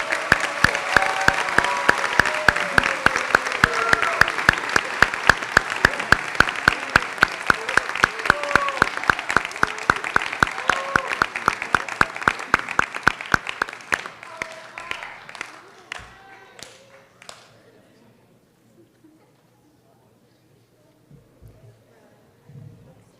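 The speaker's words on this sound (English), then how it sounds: "let's give them one more round of applause" Sustained audience applause at a medical school white coat ceremony, many hands clapping steadily and loudly for about fourteen seconds before tapering off into scattered claps and quiet room noise.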